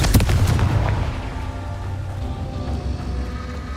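A Confringo blasting spell goes off in Hogwarts Legacy, a sharp booming burst at the start that settles into a low rumbling tail with faint crackle, loud and close, no talking.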